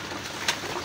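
Racing pigeons cooing at feeding time, a soft brief coo over a faint steady background hiss, heard alone without talk.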